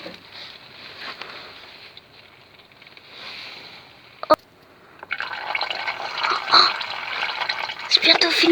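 Engine oil drains from a Citroën C4 with a 1.2-litre 110 hp petrol engine into a catch pan, at first a faint trickle, then a steadier, fuller splashing stream, with voices talking nearby.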